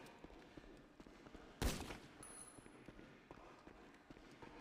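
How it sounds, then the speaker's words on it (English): A single sharp gunshot cracks out once at mid-distance in a police tactical video game, rising briefly above a low background rumble of footsteps and movement. "I heard shots."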